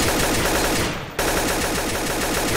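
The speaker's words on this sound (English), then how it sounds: "Why are you shooting me?" Continuous loud automatic gunfire in Garry's Mod DarkRP, a dense rapid stream of shots close up with a brief dip just past the first second before resuming.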